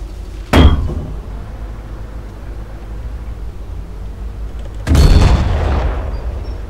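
A tank gun in the Roblox game Tankery fires two heavy booming shots, several seconds apart, each with a sharp attack and a rumbling decay over low background noise.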